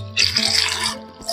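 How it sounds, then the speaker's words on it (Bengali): Olives are rinsed in water, giving a short burst of close splashing and trickling that fades after about a second, then briefly swells again. "এখন জলপাইগুলোকে জল দিয়ে খুব ভালো করে ধুয়ে নেব।"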